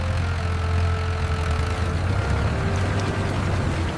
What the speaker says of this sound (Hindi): प्यारे बच्चों देखो आइचर ट्रैक्टर।